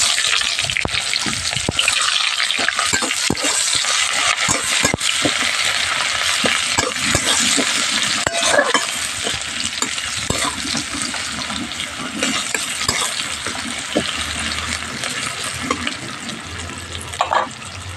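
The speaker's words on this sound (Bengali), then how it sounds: "আমি প্রথমে এখানে রসুন কুচিটা ফোড়ন দেবো। তো পেঁয়াজটা দিয়ে দেবো।" Chopped garlic and onion fry in hot oil for egg chow mein, producing a loud, unbroken crackling sizzle with frequent scraping and clinking stirring strokes close by, with no voices.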